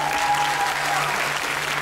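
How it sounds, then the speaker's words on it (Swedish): A theatre audience claps steadily for someone invited onto the stage, a dense, even wash of applause that holds at the same level throughout. "Ge Josefin en stor applåd"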